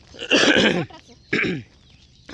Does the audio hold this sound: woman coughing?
yes